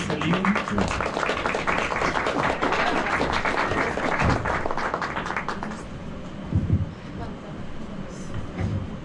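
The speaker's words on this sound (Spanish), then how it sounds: "demos un aplauso de bienvenida a las geochicas" A workshop audience on OpenStreetMap data quality and road mapping gives a welcoming round of applause: brisk clapping for several seconds that thins out and gives way to quieter room murmur and voices.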